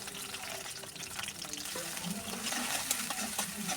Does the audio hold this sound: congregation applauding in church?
no